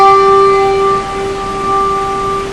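A handbell rung with the swing technique gives a bright, sustained, pure ringing tone that swells and dips slightly as it sounds alone for a couple of seconds.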